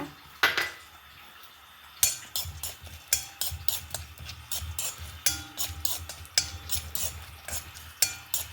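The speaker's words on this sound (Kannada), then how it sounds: "ನೆಲಗಡಲೆ ಫಸ್ಟ್ ಒಂಚೂರು ಹುರ್ಕೊಂಬ" Peanuts roast in a spoonful of ghee in a pan on the stove, stirred with a spoon that scrapes and taps the metal in a quick series of close clinks after a short pause.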